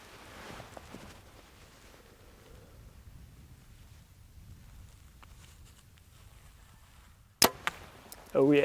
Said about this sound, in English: Feels like those arrows are louder than the bow going off, flying through the air.